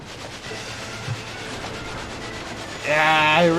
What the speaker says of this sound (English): Your opponent appears to be a train? Here it comes.